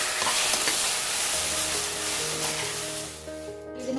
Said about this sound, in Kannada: ಒಂದು 5 ನಿಮಿಷ ಇದು ಬೆಂಡಿ ಫ್ರೈ ಆಗೋ ಟೈಮ್ ತೊಗೊಳ್ತೀನಿ